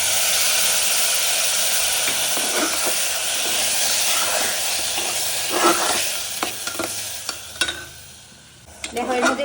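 Spice mix for mutton curry sizzles in hot oil, a loud, dense hiss that gives way to sharp crackles, stirring scrapes and pops as it settles, close up with no talk.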